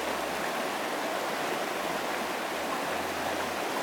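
A clear river in a rural pool area flows with a steady, dense rushing of water, constant and fairly loud throughout with no voices.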